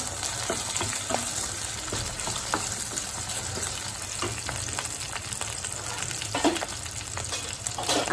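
Diced potatoes frying in hot oil with garlic and chili for an aloo palak dish, a steady close sizzle with scattered crackles and pops running the whole time, no voices.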